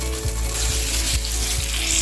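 Steak sizzles and fries loudly in a hot pan, a dense, constant hiss with faint periodic ticks running underneath.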